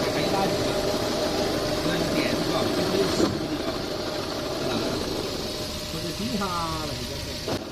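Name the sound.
BYD F6 car gearbox bearing noise at idle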